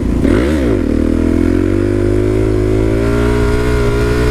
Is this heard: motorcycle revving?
yes